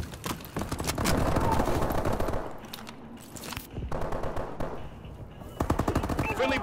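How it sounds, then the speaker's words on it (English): Video game gunfire during a multiplayer match with a friendly bombing run, heard as dense rapid machine-gun bursts that come and go with short quieter gaps and a voice talking briefly over them. "Friendly bombing run incoming."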